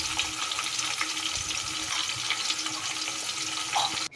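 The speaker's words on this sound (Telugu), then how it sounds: "వేసుకొని బాగా ఆయిల్లో వేయించుకోవాలి." Whole garam masala spices frying in hot oil for chicken biryani, a steady close sizzle and crackle filling the whole stretch, with faint stirring and a brief dip near the end.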